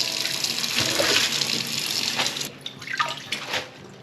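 Tap water runs and splashes while lettuce is washed in a kitchen: a close, steady gushing stream with shifting splashes as the leaves are moved under it.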